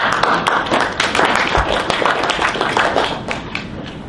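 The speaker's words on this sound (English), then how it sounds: "Let's give him a round of applause." A seminar audience on zero net energy and solar farms claps as a speaker is introduced, producing loud, dense clapping that holds steady for several seconds before easing slightly at the end.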